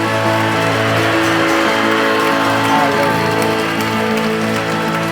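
A church congregation claps together in a steady, dense patter that fills the space, with a musical drone underneath and no speech over it.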